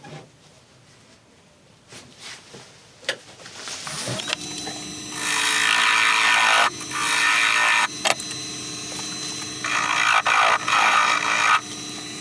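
A woodturning tool cuts a recess in a spinning wood piece on a lathe, rising from quiet scrapes into a loud, steady rasping cut with short pauses, close and without talk.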